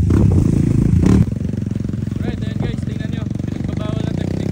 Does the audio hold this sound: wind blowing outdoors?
no